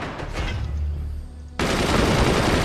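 Weapons firing in the video game Forts, a dense rumbling barrage of gunfire and impacts that suddenly jumps to a louder, harsher crackling volley, continuous and close.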